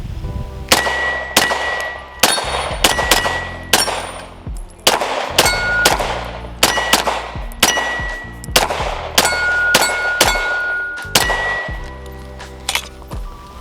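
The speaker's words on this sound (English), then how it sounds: "Let's go ahead and shoot it here and see what I still think of this gun." A neglected competition pistol with iron sights is test fired in a steady string of about fifteen shots, each a sharp crack followed by a bright metallic ring, paced roughly every second.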